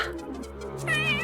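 A domestic cat meows close by in a short, clear, rising call with no talking over it.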